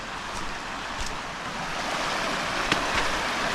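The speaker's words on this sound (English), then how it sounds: "here's our probably our river crossing here" Steady rushing water of a river crossing in Otter Creek Wilderness, Monongahela National Forest, West Virginia, flows loudly and continuously close by, a broad washing roar with no voices.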